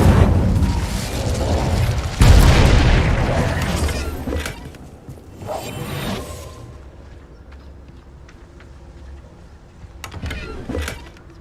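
Incendio fire spell cast in Hogwarts Legacy, a loud whooshing fiery blast that swells and rumbles, followed by a second burst and trailing crackles, then a quieter tail and a later small flare, with no talk over it.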